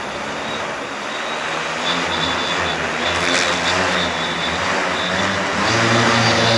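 An agricultural spray drone flies overhead with a loud, steady propeller drone that swells slightly, blotting out everything else and holding at a continuous buzzing roar throughout.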